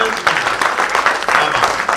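Audience applause at a live Hindi humorous poetry recital in Uttar Pradesh, a dense steady patter of clapping that fills the clip with slight surges, loud and close.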